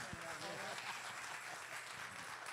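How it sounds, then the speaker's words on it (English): A church congregation applauds its pastor at a fellowship service, a dense steady wash of hand claps filling the room throughout with voices mixed into the noise. "Let's give a hand of applause for our pastor."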